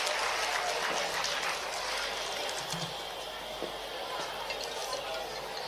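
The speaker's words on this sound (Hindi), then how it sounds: "जोरदार तालियों से हम स्वागत करेंगे अपर मुख्य सचिव महोदय श्री शिव शेखर शुक्ला जी का" An audience gives a sustained round of applause at a formal ceremony, welcoming the additional chief secretary. The clapping is broad, even and continuous throughout.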